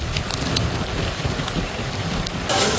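Heavy unseasonal rain with a hailstorm and gusty wind lashes the drought-prone eastern villages of Jath taluka in Sangli, making a dense, steady roar of pounding drops with scattered sharper hits and a surge near the end.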